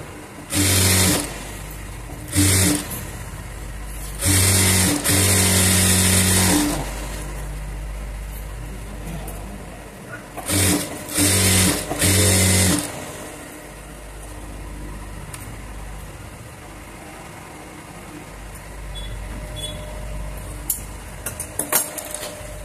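A sewing machine stitches the lining of a fabric basket handle in several loud bursts of whirring, separated by pauses filled with quiet handling sounds.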